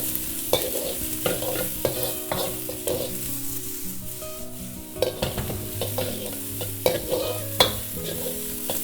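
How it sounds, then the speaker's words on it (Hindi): Chopped onions and spring onion whites sizzle as they are tossed in a hot pan on high heat for vegetable fried rice, loud frying hiss punctuated by repeated metallic clanks and scrapes of stirring, no voices. "अब डाल देंगे प्याज, स्प्रिंग अनियन का वाइट पार्ट। अब इनको थोड़ी देर टॉस करेंगे।"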